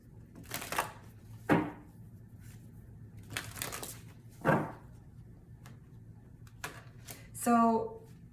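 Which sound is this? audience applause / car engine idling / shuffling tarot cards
shuffling tarot cards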